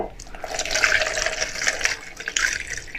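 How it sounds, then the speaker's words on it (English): Vodka hawthorn tincture poured from a jar, a close, bubbling trickle of liquid with uneven glugs and splashes running for a few seconds. "So I'm just going to pour"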